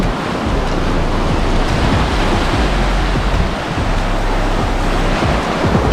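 Loud, continuous roar of sea waves breaking on the rocky coast at Bolinao, Pangasinan, with a broad wash of surf and some wind buffeting the microphone, no voices.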